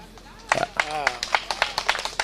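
A crowd claps at a party anniversary rally, a rhythmic run of steady claps rising as a speaker talks loudly over the venue's sound system.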